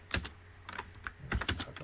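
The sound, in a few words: typing on a computer keyboard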